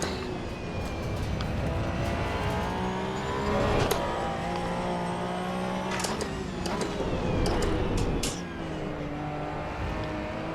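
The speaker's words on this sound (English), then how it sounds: "I'm just hitting the rev limiter non-stop." A race car engine in Assetto Corsa EVO drones steadily near its rev limiter, its buzzing tone bouncing at a high pitch over about ten seconds, with brief clicks and shifts as other cars run nearby.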